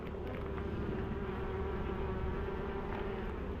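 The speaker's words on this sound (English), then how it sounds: "I'm still getting hassled by the bees from that other hive." Honey bees buzz around a farm apiary hive during an inspection, a dense, steady drone close by that fills the whole stretch without pause or talk.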